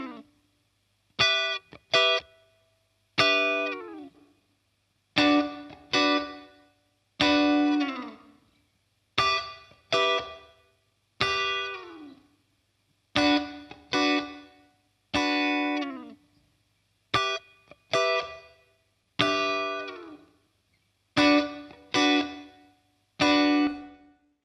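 A guitar blended with Waves Abbey Road Chambers reverb plays a series of plucked notes and short chord phrases, each attack ringing out and decaying into a roomy tail, alone and clearly up front.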